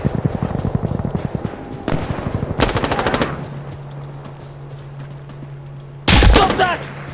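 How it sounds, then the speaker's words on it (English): Automatic gunfire in the shooter game Insurgency: Sandstorm, with rapid machine-gun bursts and single shots, loud and close, as a player's voice shouts over the firing before a final heavy burst. "Stop shooting!"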